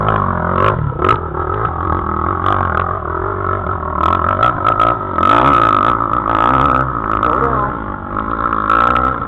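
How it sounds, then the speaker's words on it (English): Motorcycle engines rev and bark on a big hillclimb, with loud, uneven bursts of throttle rising and falling close by and voices talking over them. "you hear the motors revving?"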